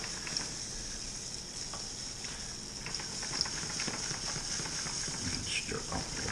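A home-brewed honey brown ale batch is stirred in a continuous, soft, sloshing, rushing wash with scattered scraping knocks, while a voice murmurs faintly in the background.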